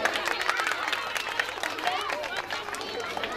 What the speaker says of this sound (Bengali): একটু জোরসে হাততালি হবে